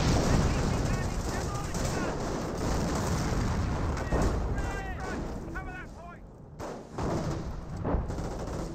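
Gunfire from M1E2 guns in the WWII strategy game Company of Heroes, dense overlapping booms and rattling shots forming a continuous battle din, heard under a commentator's steady talk.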